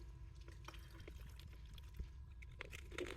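Part B of a Cinestill color film developer kit is poured from a punctured child-safe bottle, a soft continuous trickle of liquid running for a few seconds at close range with light handling noises.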